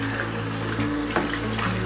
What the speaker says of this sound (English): the first thing I have to do is wash my face